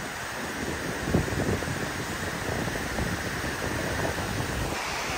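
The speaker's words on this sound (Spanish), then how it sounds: "Se está escuchando mucho viento, a ver si no afecta al video." Strong wind roars without a break beside a dam spillway as excess water is released, buffeting the microphone hard in a constant loud rush, with no voices.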